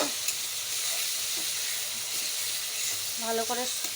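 Onion and tomato frying in a pan while a chicken dish is cooked, giving a steady, dense sizzling hiss throughout with a few faint stirring touches near the end.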